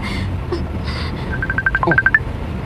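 A cellphone keypad being dialed: a quick run of about eight short, even electronic tones, close and clear over a low room background.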